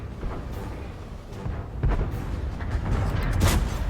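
Cannon shots from a KV-1S heavy tank in a video game, several booming reports spaced a second or two apart over a rumbling battle background, the loudest near the end.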